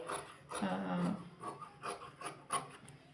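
Scissors cut blouse fabric at a tailoring table, sharpening the neckline: a soft rasping snip with short rubbing strokes that repeat irregularly, near and fairly quiet, with no talking.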